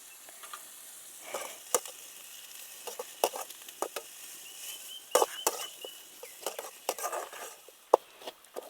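Three medium chopped onions fry in a pan with ginger while being stirred. A steady sizzle sits beneath frequent sharp crackles and spatters, and the stirring scrapes come through clearly at close range. No one speaks.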